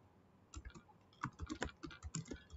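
Quick, irregular taps on a computer keyboard as a username is typed, close and crisp, with no voice.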